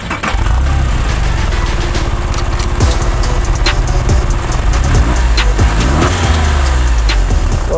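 A Porsche engine drives loud and steady, a constant close mechanical drone with rumbling low end and short clicks and knocks over the top.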